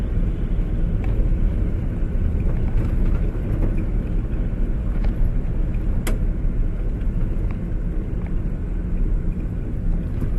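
A 1965 Ford F100 pickup with a 300 straight-six and three-on-the-tree column shift drives along, its steady low engine and road rumble loud and continuous, with no talking.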